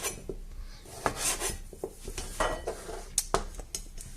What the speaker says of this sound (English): I'm going to cut it into 2 centimetre pieces, roughly.